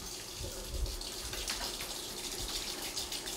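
Water runs steadily from a household tap as a Great Dane drinks straight from the faucet, a continuous splashing gush with no talk over it.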